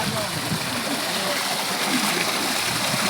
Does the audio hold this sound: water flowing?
yes